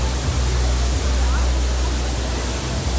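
A loud waterfall in downtown Vancouver roars in a dense, constant broadband rush close by, with low rumble underneath.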